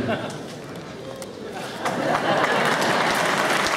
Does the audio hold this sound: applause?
yes